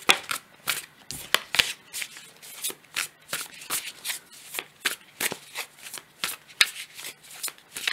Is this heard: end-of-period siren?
no